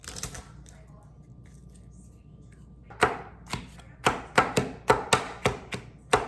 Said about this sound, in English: so I have about 4 cloves of garlic here. And how I do them, take big spoon like this, and I just crush before I cut them